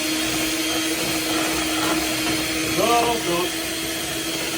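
Electric mixer whirring steadily as it mixes crème mousseline custard filling for strawberry jam and custard doughnuts, a continuous motor hum close by with a brief spoken word over it.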